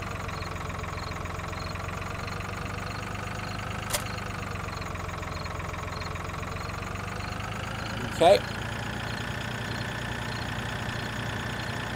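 Tractor engine idling in Farming Simulator 2013, a steady mechanical drone with a constant low hum and faint knocking, broken by a couple of short clicks, while a voice speaks briefly.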